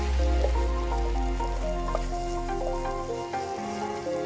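A marinated mix cooks in a pan with a continuous close sizzle and occasional stirring, over a low steady hum.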